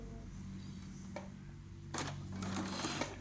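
A Bernina B570 QE semi-long-arm computerised sewing machine runs in short stitching bursts, a steady mechanical whir with brief pauses, close and fairly quiet, with no talking.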